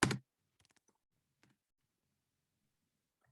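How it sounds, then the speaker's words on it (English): A few faint, sparse clicks of computer keyboard typing follow one loud opening tap, scattered keystrokes with long quiet gaps in a still room. "I know you're typing"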